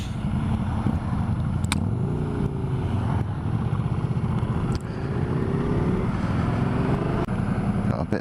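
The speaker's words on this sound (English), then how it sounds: "Bit of local traffic." Local road traffic passes on a rural road, a steady engine drone with vehicles rolling by close, a few brief knocks and clatters over the hum.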